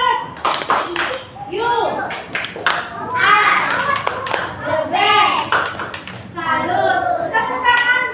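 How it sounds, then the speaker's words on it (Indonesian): Children in a classroom clap their hands in bursts of applause for a classmate, the claps mixing with kids' voices and an adult's voice. "Tepuk tangan buat Ici. Tepuk tangan."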